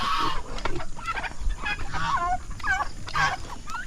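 Chickens and turkeys on a farm call over one another in a busy, continuous stream of clucks and gobbles, close and fairly loud, with no talking.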